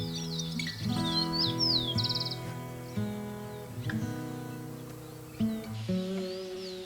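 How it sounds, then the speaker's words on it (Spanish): A thrush fledgling out of the nest gives repeated short high chirps and calls, close and fairly clear, over a steady tonal background hum from the surroundings. "Un volantón de zorzal."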